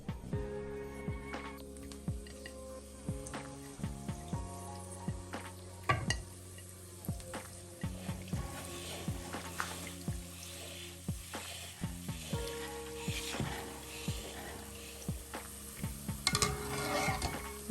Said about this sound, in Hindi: अब मैं इनको फ्राई करती हूँ।